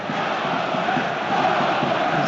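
A sellout football crowd at Middlesbrough's Riverside stadium roars steadily throughout, a dense, continuous wash of massed voices with no single speaker standing out.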